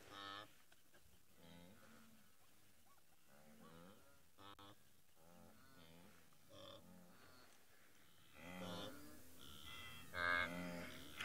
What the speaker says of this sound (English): Oh, that's the wildebeest talking to each other.